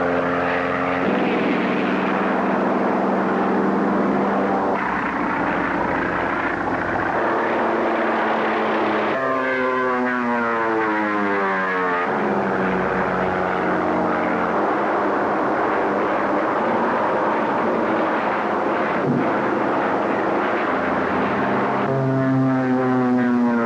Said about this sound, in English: watch Frank Tallman fly the red biplane in these scenes from the new film